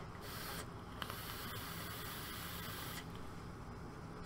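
A strong tobacco-flavoured e-cigarette vape is drawn on in a steady, close hiss that runs almost unbroken for several seconds, with slight dips and surges partway through.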